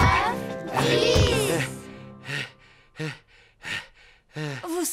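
A cartoon pig panting out of breath: a voice imitates the sound with a long exhaled puff followed by four short, separate breathy gasps spaced about half a second apart, close and clear.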